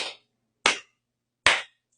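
Three slow, deliberate hand claps ring out about three-quarters of a second apart, crisp and close with silence between each.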